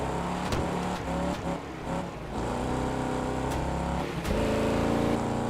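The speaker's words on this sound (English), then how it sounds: "Car does not sound so good anymore." A damaged car engine with its front end bashed in drones steadily in a racing video game, with rough, uneven revving and harmonic whine, rising and dropping a few times over continuous game audio.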